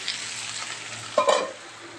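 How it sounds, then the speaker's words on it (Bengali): Pumpkin and potato fry in a pan with a dried red chili tempering, a constant hiss with a brief louder crackle of stirring partway through, close and alone. "কুমড়ো আলু কালো দিয়ে শুকনো লঙ্কা ফোড়ন দিয়ে ভাজা হচ্ছে এখানে"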